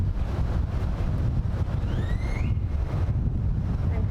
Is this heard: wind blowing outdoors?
yes